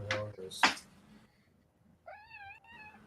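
A cat meows twice, a short cry then a longer rising-and-falling call, close and clear in a quiet indoor room with faint background noise.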